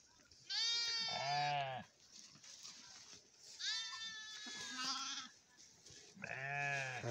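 Sheep bleat loudly and close by as the flock comes into its pen after grazing in the forest during the day, with three long wavering calls spaced a couple of seconds apart.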